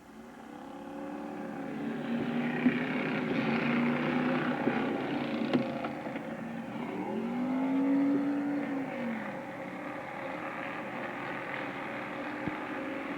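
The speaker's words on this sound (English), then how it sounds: "We got 12 cars, hopefully going 8 laps in our 4th and final Street Stock Heat." Twelve street stock race cars battle through an eight-lap heat, their engines roaring and swelling as the pack sweeps past, with pitch rising and falling through the pass over a steady background drone.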